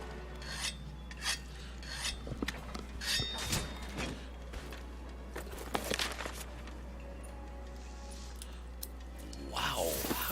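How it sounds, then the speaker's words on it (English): A weapon scraped along a whetstone in Monster Hunter World, a series of gritty rasping strokes in uneven bursts over a low steady game hum, with scattered soft thumps and clatter. "I want to use this opportunity to sharpen."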